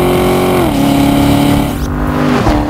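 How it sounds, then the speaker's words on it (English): A 460-horsepower C7 Corvette Stingray V8 roars loudly and up close on a racing track. The engine note holds steady, then steps down in pitch twice as it shifts, with no talking. "460 horsepower of American made V8 engine gets this car from 0 to 60"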